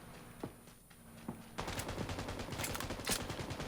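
Fully automatic VSS rifle fire in PUBG training mode. Faint single shots come first, then a rapid, steady stream of suppressed gunfire with no voices.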